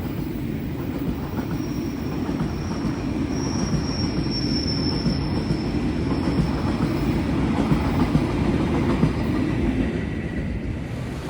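Steady rumbling of a train rolling along rails at Lempuyangan station in Yogyakarta, Indonesia, with faint wheel squeal, continuous and fairly loud, no voices.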